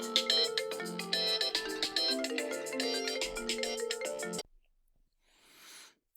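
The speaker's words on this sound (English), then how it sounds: "My phone rang." A mobile phone ringtone plays a loud, bright melodic tune for several seconds and then cuts off abruptly, followed by a faint rustle, with no talking.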